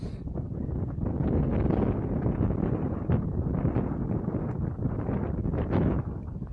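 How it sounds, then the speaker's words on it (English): Gusty wind buffets the microphone beside a 1980s road bike outdoors, producing loud low rumbling and flutter that surges and eases irregularly throughout. "It is ridiculously windy out here today"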